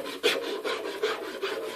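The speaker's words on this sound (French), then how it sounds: "Là, je prends la lime à métaux." A metal file rasps by hand on a Citroën Traction Avant steering wheel. It makes about five steady, close strokes in an even back-and-forth rhythm with no talking.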